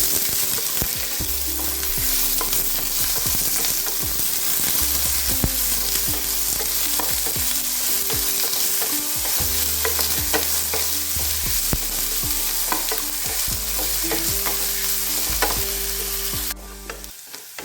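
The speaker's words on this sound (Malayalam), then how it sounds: "അരിഞ്ഞു വെച്ച സബോള വെളുത്തുള്ളി ഇഞ്ചി പച്ചമുളക് എന്നിവ ചേർത്ത് കൊടുക്കാം നന്നായി ഒന്ന് വഴറ്റിയെടുക്കാം" Chopped onion, garlic, ginger and green chili sauté in a hot pan for an egg-and-bread snack, a steady close sizzle broken by repeated scraping stirs of a spoon against the pan, with no talking.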